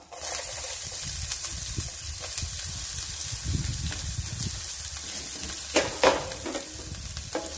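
Finely chopped garlic, onion and green chili fry in a pan, a steady oily sizzle with stirring scrapes and a few louder crackling bursts near the end, no voices.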